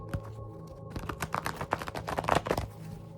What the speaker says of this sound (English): Let's go ahead and shuffle one more good time.